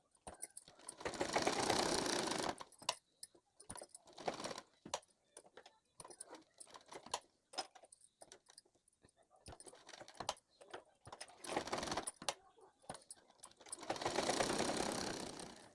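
A sewing machine stitches all around the edges of a homemade potli bag in two quiet whirring runs near the start and end. Faint clicks and handling noises fill the gap between them.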